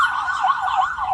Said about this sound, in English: Here goes another ambulance.